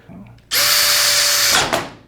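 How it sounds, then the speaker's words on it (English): A power drill bores into PVC pipe for an NFT hydroponic system, running in one steady, loud, high-pitched whine for about a second before spinning down, with a faint voice just before it starts. "We could just drill right into it knowing it's not going to turn either way."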